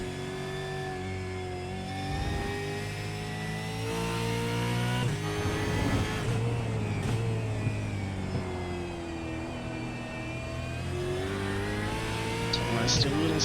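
Supercars lap Interlagos in iRacing, engines droning and revving continuously in a dense blended roar of several cars, with commentary over the top throughout.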